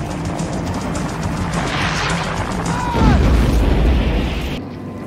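A rocket strikes a helicopter and blows it apart: a heavy, booming explosion bursts in partway through over a dense, rumbling background, then roars on and dies off abruptly.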